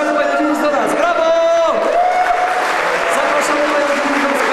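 Crowd on a walking pilgrimage to Jasna Góra clapping and cheering as a woman guest is welcomed, a loud outdoor mass of applause and whoops under a voice speaking over it.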